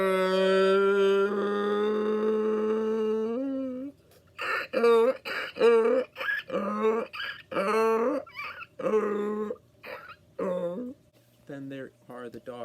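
A person's voice imitates a donkey braying, starting with a long, steady, drawn-out tone and moving into a series of choppy, rhythmic hee-haw bursts, close and fairly loud.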